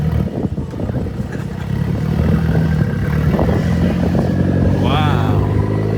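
An Audi B9 S4 with an aftermarket exhaust revs loudly and steadily up close, the engine note holding under a busy crowd murmur, with a brief rising whine near the end.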